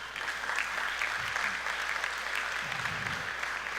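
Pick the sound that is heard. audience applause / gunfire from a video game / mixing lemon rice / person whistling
audience applause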